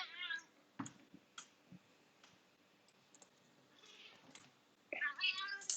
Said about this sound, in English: My cat is acting up, and my cat just disconnected my screen.